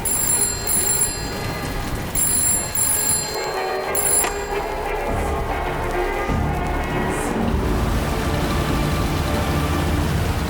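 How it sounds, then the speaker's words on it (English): A telephone rings in repeated bursts of bright trilling tones, with a steady wash of rain or noise underneath throughout. "Then, there came a phone call."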